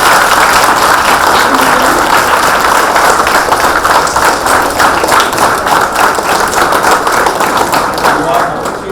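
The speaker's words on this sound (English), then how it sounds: "Big round of applause, please." Loud audience applause at a college science forum, many hands clapping steadily for several seconds with a slight rhythmic pulse, fading a little toward the end, with voices mixed in underneath.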